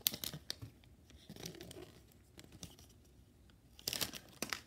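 Foil packs of 2021 Bowman Chrome baseball cards are torn and crinkled open close by, quiet irregular bursts of ripping and crumpling with softer rustles between them, no talking.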